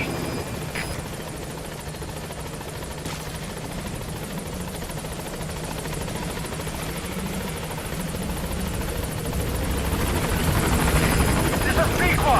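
A helicopter in the video game Metal Gear Solid 5 drones steadily as it arrives at a landing zone, its rotor and engine noise constant and growing louder toward the end, with game radio voices over it.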